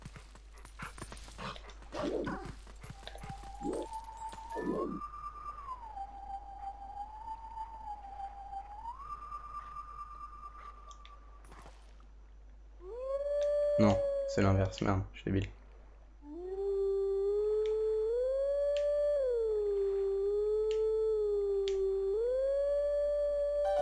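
A wolf howls in the video game Zelda Twilight Princess, with long, wavering, whistle-like tones that bend up and down, broken by short talk from a player.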